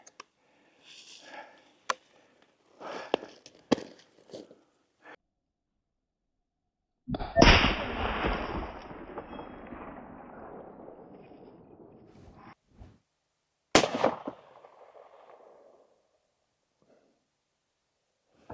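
Two loud, sharp shots from a side-lever Fraser falling-block rifle in .450-300, several seconds apart, each followed by a long rolling echo that fades away, with faint quiet noises between them.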